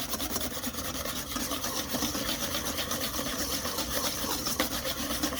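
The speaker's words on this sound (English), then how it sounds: "we're just gonna continue to whisk" A whisk scrapes rapidly and continuously around a bowl of hollandaise sauce, a close, steady rubbing rhythm with no talking.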